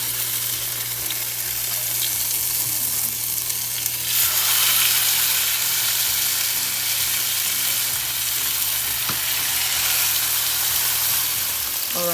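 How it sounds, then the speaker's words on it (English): Curry chicken pieces fry in hot oil in a pan, a loud continuous sizzle and crackle that swells briefly partway through, with faint scraping of stirring and no talking. "We'll be frying the back first so that we can lock in all the moisture."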